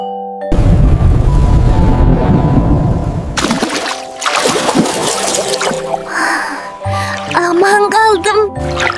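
A children's cartoon about the water cycle plays pouring rain with deep thunder booms, then shifts into lighter splashy effects and bright musical tones near the end.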